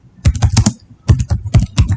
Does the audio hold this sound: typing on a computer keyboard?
yes